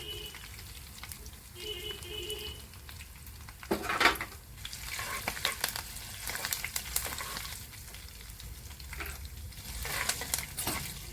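Tempering seeds and asafoetida fry in hot oil for a village-style mango pickle. The sizzle is steady and crackling, with bursts of stirring and spoon scrapes against the pan and a short spoken remark early on.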